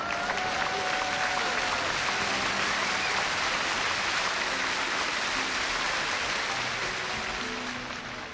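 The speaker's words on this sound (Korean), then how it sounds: "여러분, 뜨거운 격려의 박수 부탁드리겠습니다." A church audience gives sustained, dense applause that sounds like heavy rain, steady and loud throughout before easing slightly at the end, with no voices on top.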